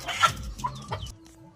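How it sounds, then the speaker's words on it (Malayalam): A Kiripulli-coloured native hen, a broody female about one and a half years old, gives a few short close clucks in a quick uneven run, ending in near silence. "നല്ല രീതിയിൽ അടയിരിക്കുന്ന ഒരു കോഴിയാണ് കീരിപ്പുള്ളി"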